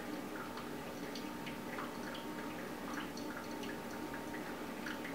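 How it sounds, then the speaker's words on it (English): Pour-over coffee dripping through a Z Dripper into a cup, a steady close trickle of fine drips and soft ticks running continuously with no talking. "I kind of know from experience about how much is going to drip through after I finish pouring."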